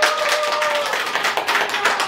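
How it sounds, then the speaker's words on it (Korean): A short burst of steady clapping from a group at a Christian first-birthday worship service, dense and fairly loud, with faint voices mixed in. "박수 한번 부탁드립니다"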